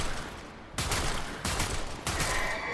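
The Zylok charge pistol in Warframe fires in a quick series of loud, sharp blasts, four discharges spaced roughly evenly, each with a bright crack and rumbling tail, close and alone.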